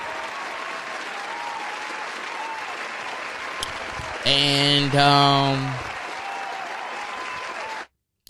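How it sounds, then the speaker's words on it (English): Sustained applause from people gathered in a podcast studio, a steady wash of clapping that swells briefly, with a short spoken word and a burst of louder voices near the middle before it cuts off. "y'all was clapping for a long ass time."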